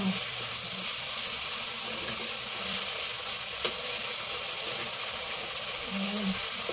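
Tomatoes and pork cubes for pork tocho sauté in a hot frying pan, giving a steady, even sizzle with occasional faint clinks of stirring and no talking.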